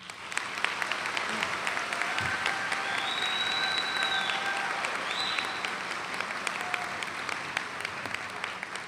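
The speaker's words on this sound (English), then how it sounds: "Please give them a round of applause" Steady applause from a commencement audience honoring university staff at the UAS Juneau graduation ceremony, filling a large hall in a dense, sustained wash of clapping with faint tonal sounds and a crowd murmur beneath.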